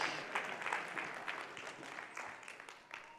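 Applause from a church congregation during a sermon, a steady patter of many hands clapping at moderate distance, fairly quiet, with no voices over it.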